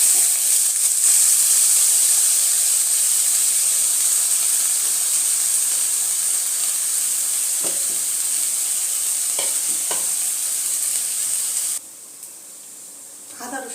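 Ginger garlic paste frying with onions in a pan. A strong, steady hissing sizzle carries a few scraping stirs, then drops abruptly to a much quieter sizzle near the end.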